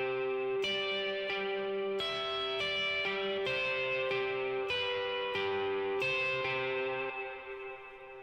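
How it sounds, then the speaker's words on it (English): An electric guitar played through a pedalboard with heavy reverb rings out in a series of sustained strummed chords, each attack blooming into a long, full, washing tail, loud and alone. "If you add like a ton of reverb on it."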